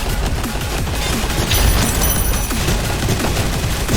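Sustained minigun fire in the VR shooter Gun Raiders, a loud, continuous, densely packed roar of rapid shots lasting the whole four seconds without a break.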